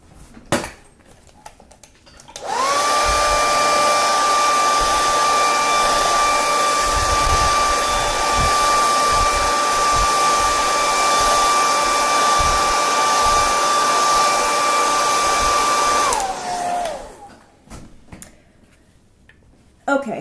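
A hair dryer dries paint on paper, switching on abruptly with a loud, steady whirring whine held for about fourteen seconds. It then winds down and cuts off, with faint handling sounds before and after.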